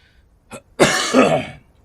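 A person close to the mic coughs during a gaming stream: one short, sharp hack, then a longer, harsh rasping cough like throat clearing, with no talk.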